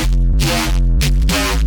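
A bass-boosted synth sound without a vocoder plays in two heavy sustained pulses with deep booming low end and bright buzzy upper layers, loud and dense, with no voices.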